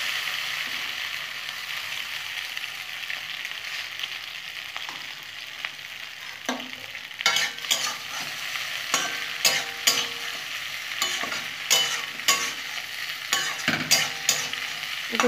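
Pasta is fried in a pan while being stirred, giving a steady close sizzle with repeated scraping and clattering strokes from the utensil that grow busier and louder in the second half. Nobody speaks.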